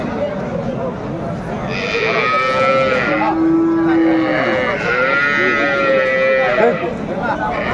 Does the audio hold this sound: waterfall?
no